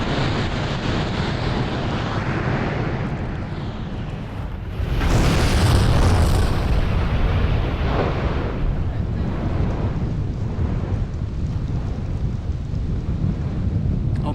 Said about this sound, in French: les gaz se détendent. C'est l'explosion. C'est ce que vous entendez derrière.